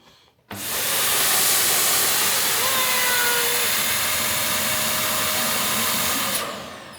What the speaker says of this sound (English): And you close them up and then you use the vacuum cleaner.